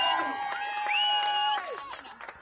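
Audience at a chilli eating contest in Wales cheers, close and loud, with whoops and excited shouts over a crowd roar that fades toward the end.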